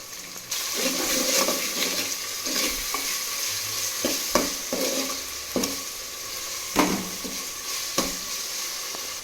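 Masala with tomatoes sautéing in a pan for chatti fish curry, a steady sizzle with repeated scraping stir strokes at irregular intervals, close and moderately loud, no voices.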